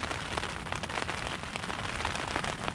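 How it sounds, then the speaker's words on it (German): Heavy rain pours steadily outdoors during a sudden storm at an emergency shelter, a dense, continuous hiss with scattered sharper drop impacts, close and fairly loud throughout. "Der Regen wird auch kräftiger."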